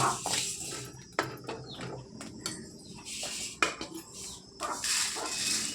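Fried potato being moved from a pan onto a plate, with faint scraping of a ladle against metal and soft clinks in quick irregular bursts, near and quiet.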